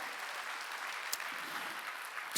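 Steady applause from a church congregation at a Wednesday worship service, an even, moderate wash of clapping lasting a couple of seconds with a few sharper claps standing out.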